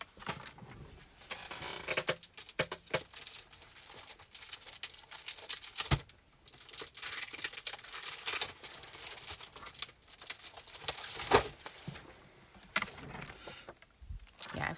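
Cardstock is cut down to size for a handmade card, giving a series of crisp snipping and rustling paper sounds at close range, uneven in rhythm with short pauses, with no talking.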